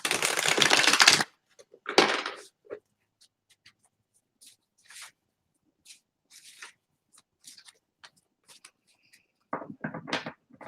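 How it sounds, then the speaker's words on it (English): Tarot cards are shuffled with a loud riffling burst at the start, followed by scattered soft taps and card slides, ending with another brief flurry. "So let's shuffle the cards here."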